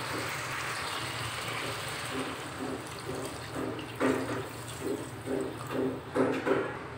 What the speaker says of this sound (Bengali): এখন আমি পরিমাণ মতো ঝোলের পানি দিয়ে দিব।